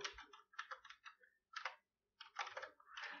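Bursts of computer keyboard typing, close and quiet, with short clusters of keystrokes separated by brief pauses.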